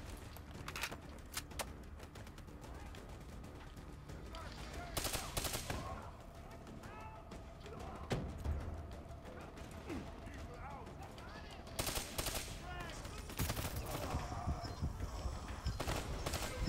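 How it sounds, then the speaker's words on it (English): Repeated bursts of gunfire from a burst-fire weapon in the Call of Duty Black Ops 3 campaign, sharp clustered shots scattered throughout with someone talking over much of it. "I don't like burst fire weapons"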